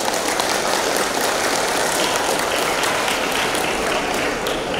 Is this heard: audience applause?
yes